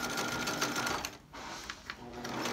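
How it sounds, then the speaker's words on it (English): A sewing machine stitches a rope rug with a rapid, continuous mechanical whirring, close and fairly soft, pausing briefly midway before resuming. "sew this piece in"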